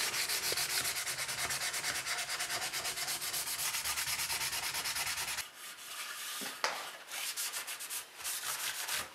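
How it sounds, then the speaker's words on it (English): A guitar body finish being lightly hand-sanded with a 320 pad: a close, continuous rhythmic rubbing scrape that pauses briefly, then resumes in shorter strokes. "I've just got a 320 pad and I'm just going to give it a light sand off."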